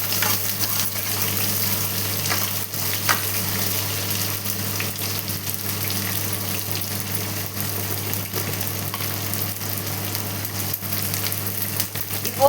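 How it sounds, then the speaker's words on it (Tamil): Onions sautéing with salt in a pan for masala kulambu, a continuous dense sizzle with a low steady hum beneath and occasional stirring; no talk. "சேர்த்து இதை நல்லா வதக்கி விட்டுக்கலாம்."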